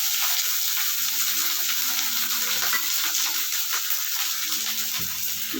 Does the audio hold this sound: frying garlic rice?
yes